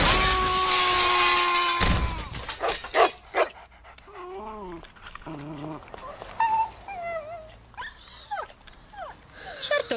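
A dog in an Italian comedy film pants and whimpers amid scattered crashes and clatter, then gives a run of short yelps and whines. People talk at times in the background.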